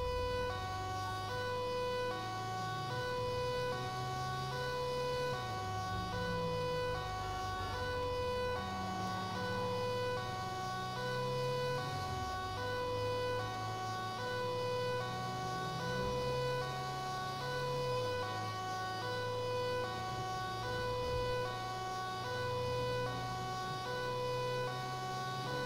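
A wailing ambulance siren from a GTA 5 EMS mod sweeps up and down continuously over a low engine drone, loud and near for the whole stretch, with no one speaking.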